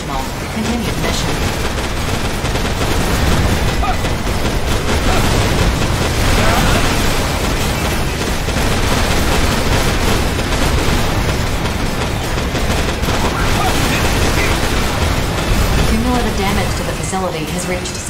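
Cannon fire and explosions in the mech action game Daemon X Machina roar as a continuous, loud, dense wash of blasts and rumbling noise, with no quiet gaps.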